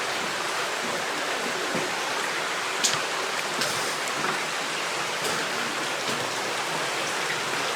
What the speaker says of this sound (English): Notice some of the water flows to the left by that breakdown pile